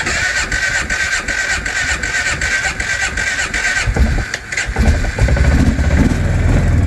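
An old farm engine is cranked in cold weather, churning and sputtering steadily before catching and running louder with a rougher, fuller roar, close and loud.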